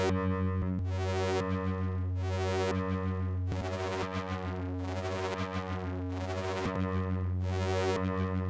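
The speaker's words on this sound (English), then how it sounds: "This is wave folding a sine wave." Sine wave run through wave folding on a WMD Triple Bipolar VCA Eurorack module: a continuous, loud harmonically rich synth tone that swells and brightens in repeated sweeps roughly every 1.3 seconds, alone with no voice.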